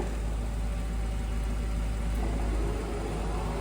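A Csepel UF-222 heavy-duty universal milling machine has its spindle running at 1180 rpm, giving a dense, steady whirring hum with a strong low rumble, constant in level throughout and free of speech.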